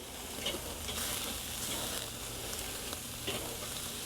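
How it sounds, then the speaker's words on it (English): Ribeye steaks sizzling over charcoal on a Weber kettle grill, a steady close crackling hiss with occasional small pops and faint metallic handling sounds. "Gotta love cooking steaks over charcoal."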